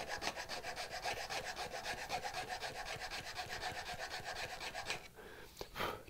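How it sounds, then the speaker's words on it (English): A hand file rasps along a curved wooden chamfer on a turning saw frame, steady close rhythmic strokes repeating for several seconds before stopping, followed by a few lighter scrapes. "I'm actually going to come in here with the file and blend that in from one to the other"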